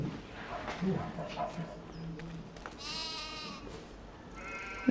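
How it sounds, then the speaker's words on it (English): Sheep in the video game Farming Simulator 25 bleat a few times at moderate distance while a person talks nearby, with faint rustling and footsteps in the background. "Oh, sheep."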